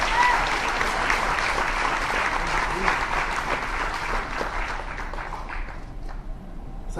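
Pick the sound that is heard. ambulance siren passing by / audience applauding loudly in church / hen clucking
audience applauding loudly in church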